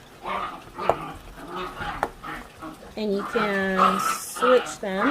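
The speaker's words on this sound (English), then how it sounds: "I'm sorry, those are my dogs." Small dogs, including a chihuahua, bark and whimper in a home, first under speech and then louder and closer in a burst of yelps toward the end.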